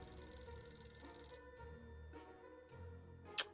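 A telephone ringing in 60 Seconds! Atomic Adventure, repeated electronic ring bursts at fairly regular intervals over quiet background tones, ending with a brief sharp chime.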